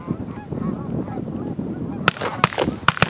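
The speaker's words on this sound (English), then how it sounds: "While many of the groups of geese took off with the shots, a minute later, one of the groups started dropping in." A flock of geese drops in during a goose hunt: a few loud, close honks break out near the end over a low, murmuring outdoor background.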